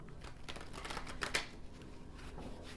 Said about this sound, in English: Kind of want to shuffle these cards a little bit more